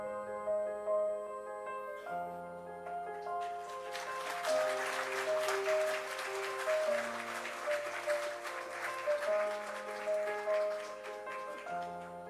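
An audience applauds after a film screening at the Global Conclave 2024, the clapping swelling in over soft sustained music and continuing for several seconds before fading as the music carries on.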